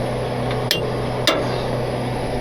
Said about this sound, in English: Hammer that over.